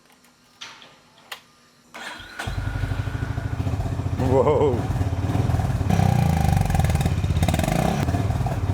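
A Honda CB 350 motorcycle starts after a couple of clicks, then settles into a loud, steady single-cylinder thump that rises as the throttle is blipped, close to the microphone with a brief voice at the start.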